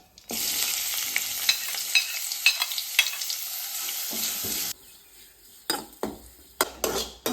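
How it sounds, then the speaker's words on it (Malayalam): Onions drop into hot ghee in a pot for biryani and sizzle loudly and steadily for several seconds, then the frying cuts off and a few scrapes and clinks of a spoon against the pan follow. "ആദ്യം നമ്മൾ നെയ്യ് ഒഴിച്ച് ഇനി നമ്മൾ നമുക്ക് സവാള ഇടാം"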